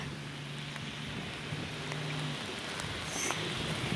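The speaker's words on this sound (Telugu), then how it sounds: "అయ్యా వాన ఇంకా పెరిగిపోయింది" Steady heavy rain hissing across the whole clip, broadband and continuous, with a faint low engine hum of a bus in the background.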